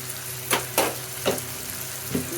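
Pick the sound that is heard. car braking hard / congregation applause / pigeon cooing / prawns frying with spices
prawns frying with spices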